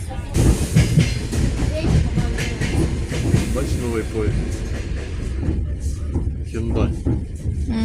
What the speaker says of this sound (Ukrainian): А це ми вже в іншій електричці.